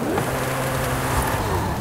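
A Koenigsegg Jesko hypercar's engine in the racing game Forza Horizon 5 drones steadily at low pitch, a sustained hum that rises and falls slightly as the car accelerates in stormy in-game weather.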